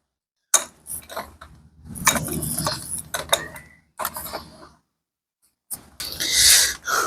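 A fitting is tightened by hand during a home repair job, giving intermittent creaks, squeaks and small mechanical clicks in short irregular bursts, close and fairly loud, with brief pauses between.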